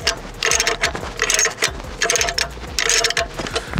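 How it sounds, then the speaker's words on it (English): Spare tire winch on a Hummer H3 lowering the wheel: a close, loud run of rhythmic mechanical ratcheting and clicking gear sounds repeating in steady bursts, with no talking. "from here, you will engage the mechanism backwards and start lowering the tire."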